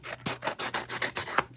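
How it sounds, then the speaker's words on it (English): Scissors trimming excess paper from a printed handout: a steady series of about seven rasping snips at an even rhythm, close and fairly quiet, with no voice. "So I'm just going to cut off the excess here and trim around"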